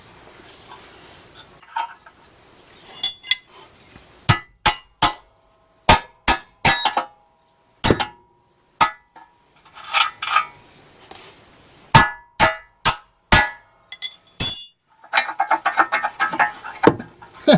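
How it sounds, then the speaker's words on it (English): Repeated sharp metallic hammer blows while installing a Hughes 3000 stall torque converter in a third-generation Camaro, struck in irregular clusters of single hits and quick pairs, loud and close with no talk. "Should grab a hammer."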